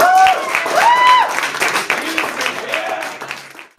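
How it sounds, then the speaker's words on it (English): Audience applause at a high school announcement, clapping mixed with whistles and cheering that fades out over a few seconds. "So y'all give her a big round of applause."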